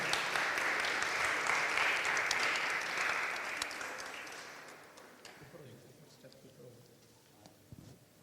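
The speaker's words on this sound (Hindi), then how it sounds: "ज़ोरदार तालियां जी" A church fellowship gathering breaks into loud applause as flowers are presented, a dense burst of clapping that holds strongly for several seconds and then fades away, with voices talking underneath.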